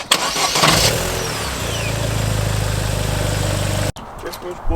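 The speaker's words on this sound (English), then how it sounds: "let's go, start it up" A Vauxhall Corsa VXR engine cranks and fires up, rising into a loud, steady idle that runs for about three seconds before cutting off abruptly, followed by brief quieter sounds.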